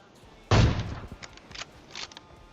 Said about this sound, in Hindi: अब मैंने क्या कर दिया, गोली चला दी